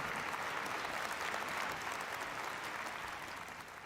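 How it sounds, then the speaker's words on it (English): Sustained clapping from a sizable audience, steady and fairly loud, tapering slightly toward the end, with no voices over it. "Please give a warm round of applause"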